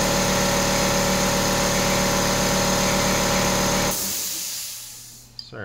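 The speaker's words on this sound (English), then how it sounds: "Sorry about the compressor noise." An air compressor runs steadily in a workshop during a rear brake job on a Dodge Ram, giving a loud constant hum and hiss close by that cuts off near the end and leaves quiet room noise.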